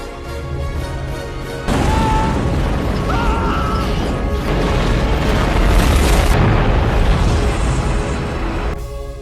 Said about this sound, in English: a shark pulls the helicopter down, crashing it into the tower in a fiery explosion that kills everyone on board